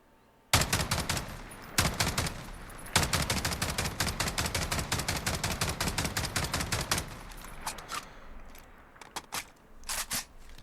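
An L85A2 rifle in Call of Duty Modern Warfare fires a long string of sharp, evenly spaced shots, loud and close, then a few scattered single shots as the firing tapers off.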